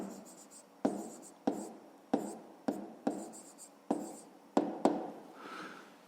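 Writing out a fifth-grade maths solution by hand: about nine sharp tapping strokes land in an uneven rhythm, each followed by a short scratchy trail, quiet and close.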